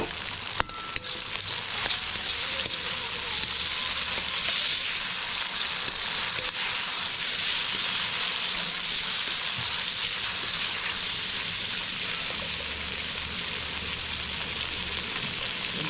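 Garlic, onion and tomatoes sauté in a backyard pan for pinakbet, giving a steady, loud, close sizzle that runs unbroken for the whole stretch with faint stirring underneath and no talking.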